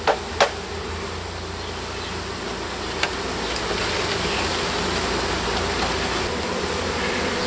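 Honey bees from a package swarm in a dense, steady buzzing drone while being installed into a Langstroth hive, close and continuous, with a few brief knocks at the start.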